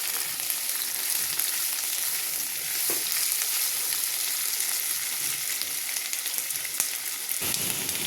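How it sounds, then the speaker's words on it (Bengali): Black cumin, onion, garlic and potato frying together in a pan for dal, giving a steady, even sizzle that carries on without talk and has occasional faint stirring clicks. "কালো জিরে, পেঁয়াজ পেঁয়াজ রসুন, আলুটাও দিয়ে দেবো, একসাথে ভেজে নেব।"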